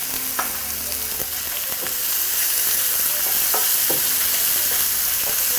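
Onions fry in a pan with coarse salt, a loud, steady sizzle with occasional scrapes and taps of a stirring utensil, growing slightly louder partway through.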